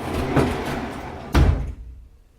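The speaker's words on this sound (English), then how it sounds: "I'm gonna open this door because it's getting so hot" An indoor door being opened gives a soft clunk, then a sharper, heavier knock-like thud a second later, followed by near silence; no one speaks.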